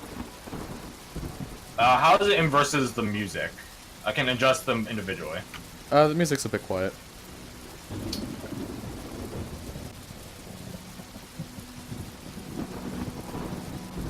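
A rain and thunderstorm sound effect plays: steady rainfall with a low rumble of thunder, first under a few seconds of talking, then carrying on alone and fairly quiet.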